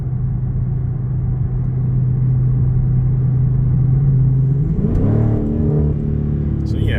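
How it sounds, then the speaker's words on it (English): Car engine and exhaust drone heard from inside a four-door car while driving, a loud steady low rumble that shifts pitch near the end as the engine note changes. "it's all about that exhaust note."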